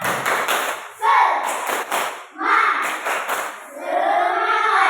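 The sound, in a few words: children doing the 'tepuk semangat' rhythmic spirit clap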